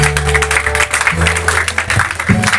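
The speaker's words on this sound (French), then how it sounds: "Acclamons pour la gloire de Dieu." Church congregation in Lyon applauding during a special Sunday service, dense continuous clapping layered with sustained voices or music tones, loud and close throughout.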